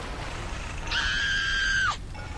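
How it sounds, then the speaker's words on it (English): A single drawn-out scream in the video game BioShock, a sustained high wail lasting about a second that rises in and cuts off abruptly, heard alone over a low background hum. "I hear screaming."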